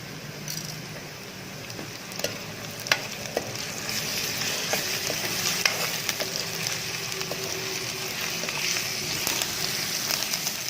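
Steady sizzling of ginger garlic paste frying in a hot pan, with occasional stirring clinks and scrapes, close and continuous throughout.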